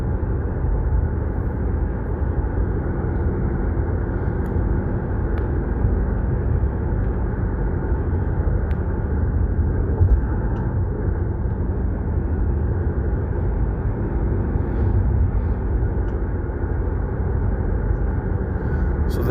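Steady low rumble of road and engine noise inside a moving car driving in Slovakia, constant and unbroken with no talking.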